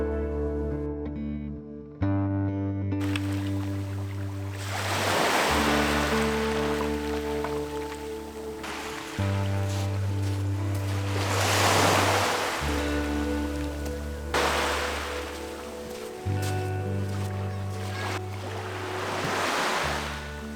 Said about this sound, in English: The waves are quite strong